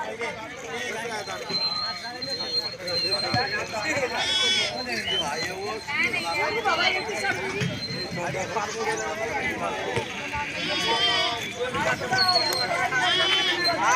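Goats bleat repeatedly amid a busy crowd at a livestock market selling goats and sheep, with lots of overlapping talk and chatter throughout.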